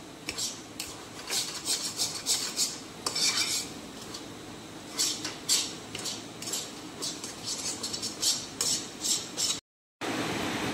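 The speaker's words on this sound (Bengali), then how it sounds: "এবার ডালের সঙ্গে মশলাটা ভালো করে কষিয়ে নিতে হবে।" Turmeric, coriander and cumin powders are stir-fried with lentils in a pan, the utensil scraping and clinking against the metal in quick, repeated close strokes, with a brief silent gap near the end.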